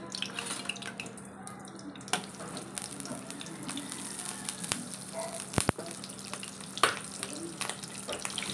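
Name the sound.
garlic and chili sautéing in butter and coconut oil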